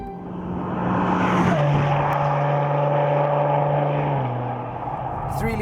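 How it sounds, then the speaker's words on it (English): Maserati Ghibli S with a Ferrari-developed twin-turbo 3-litre V6 builds up into a loud, steady engine drone with a rising pitch, then shifts down to a lower tone near the end, no voices over it. "Three-litre V6 engine, twin turbo, incredibly responsive."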